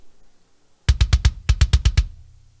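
Two quick bursts of four punchy kick drum hits each, a blend of two kick samples, tight and layered with a bright click on top of deep thump, in a metal-style mix.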